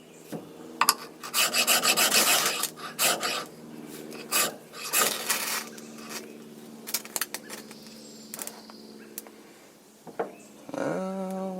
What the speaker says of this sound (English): Decided to bust out the little scraper, super scraper.